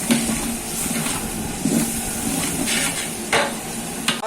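Ginger garlic paste sautéing in oil for a large batch of chicken dum biryani, a steady close sizzle with occasional scraping stirs and clinks of a spoon against the pot, no talking.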